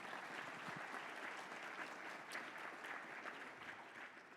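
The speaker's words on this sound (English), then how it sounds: "Can we give her another round of applause for her great work?" A round of applause from a conference audience for a presenter, dense and even throughout but faint and distant, with no talking.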